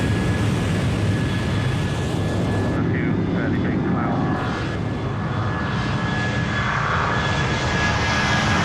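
A fixed-wing airplane engine powers up for takeoff, a loud continuous droning roar with a steady tone that stays strong throughout, while a person talks over it.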